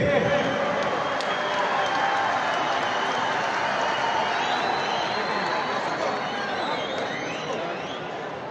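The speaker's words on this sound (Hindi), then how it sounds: "जरा सब तालियों की गूंज पे बताइए आपको आवाज आ रही है?" Large stadium crowd applauding and cheering at a charity cricket match held for flood victims in Peshawar, a dense continuous roar of clapping and voices that holds steady throughout and eases slightly at the end.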